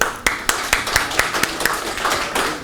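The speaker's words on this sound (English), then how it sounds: "Kindly clap" Sparse, spaced claps from a small symposium audience on tax law, around a dozen distinct hand claps in an uneven rhythm, fairly close and clear over faint room noise.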